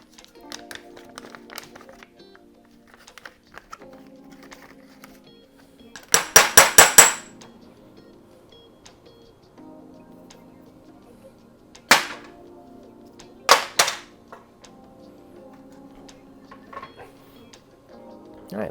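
Hammering parts into a T56 manual transmission: a rapid cluster of sharp metallic strikes, then a few isolated hard knocks later, close and crisp with quiet handling noises in between.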